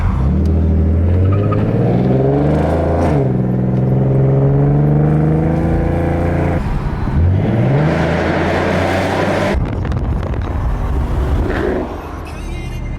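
A Ford Mustang Boss 302 accelerates hard on a run, its V8 engine climbing through the revs with loud, close roaring and distinct gear-change drops before pulling again.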